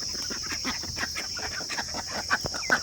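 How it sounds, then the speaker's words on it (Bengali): Big ducks gathering near a home waiting for rice, a close chorus of repeated quacks and honking calls in an uneven rhythm, with a couple of louder calls toward the end. "এই বড় হাঁসগুলো এসছে"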